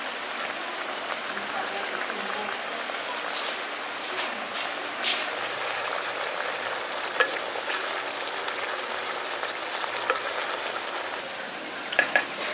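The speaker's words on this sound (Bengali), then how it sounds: "এবার এটাকে ভালো করে গ্রেভিটার সঙ্গে মিশিয়ে দিচ্ছি" Spices stirred into a simmering egg and lentil dal gravy in a pan, a soft steady sizzle with occasional scraping clicks of the spoon, fairly quiet throughout.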